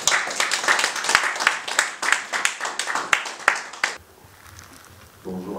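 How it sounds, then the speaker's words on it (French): A seated audience claps in a steady, dense burst for about four seconds, then the applause stops abruptly, leaving quiet room noise before a voice begins. "des applaudissements encore, s'il vous plaît"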